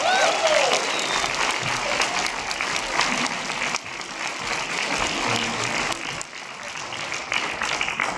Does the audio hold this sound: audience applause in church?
yes